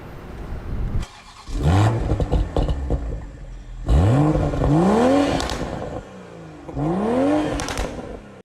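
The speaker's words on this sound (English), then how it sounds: "Now take a listen to this B58." A 2021 Toyota GR Supra 3.0 with its B58 straight-six and titanium exhaust revs hard in three loud bursts, each rising pitch sweep climbing and falling back between pauses, with no talk over it.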